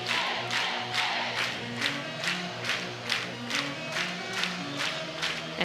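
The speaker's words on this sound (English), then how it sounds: "you can feel the crowd starting to get into it" A college softball stadium crowd at a Kentucky versus Alabama game cheers and claps in a steady rhythmic pattern, roughly two beats per second, a broad wash of voices at moderate distance.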